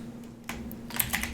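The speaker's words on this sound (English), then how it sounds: "we're going to type in" Short bursts of keystrokes on a computer keyboard, a few scattered clicks then a quicker cluster, close and fairly quiet with no talk.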